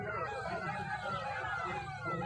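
A wailing ambulance siren at a road accident scene cycles continuously and loudly, rising and falling throughout, with voices murmuring underneath.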